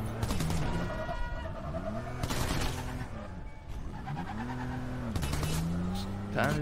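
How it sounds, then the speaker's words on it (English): Gunfire in the video game Crackdown 3, loud and rapid bursts layered over a constant roar of engines and game effects, with a few louder shots standing out. "Oh, someone's shooting at me."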